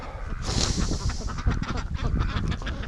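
Ducks honk and quack in a noisy outdoor flock, continuous overlapping calls from close by with wind rushing through.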